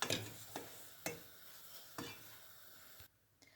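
Semolina toasting in a pan over low to medium heat while being stirred, giving a soft steady sizzle broken by several distinct scraping stir strokes at uneven intervals, close and fairly quiet, with no talk.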